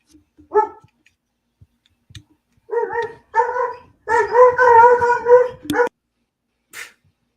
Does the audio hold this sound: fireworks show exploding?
no